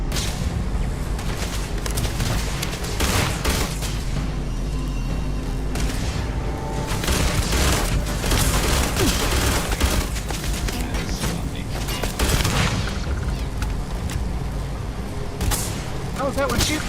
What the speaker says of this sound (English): How is that one shooting me?